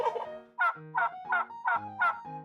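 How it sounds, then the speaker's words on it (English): A turkey gobbles in a quick run of about five rattling, throaty bursts, close and clear against a silent background. "Turkey, gobbling sound."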